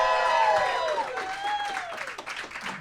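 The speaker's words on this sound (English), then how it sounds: "And those applause right there." An audience applauds and cheers at a live podcast recording in a Chicago tavern, clapping mixed with whoops and shouted voices, loud and close, gradually settling down.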